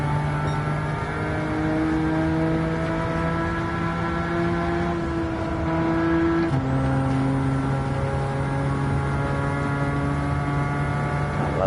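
Car engine in Gran Turismo 7 holding a steady, loud drone with sustained tones that shift pitch partway through, a continuous mechanical hum filling the whole stretch without talk.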